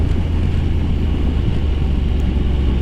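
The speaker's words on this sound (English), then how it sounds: "I'm only going in engine braking now." A Honda NC750X motorcycle slows on engine braking alone, giving a steady low drone with wind rush that holds evenly and loudly for the whole stretch.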